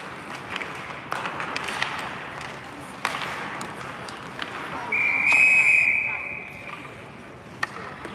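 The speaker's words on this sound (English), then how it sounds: "I don't know what the whistle was" A referee's whistle at a Team Alaska Tier 1 ice hockey game, one sustained shrill blast of about a second in an arena, over crowd noise and sharp rink clatter, with a commentator talking around it.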